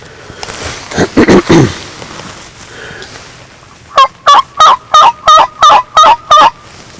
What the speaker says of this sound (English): I think I just heard a bird gobble, but he was a long ways.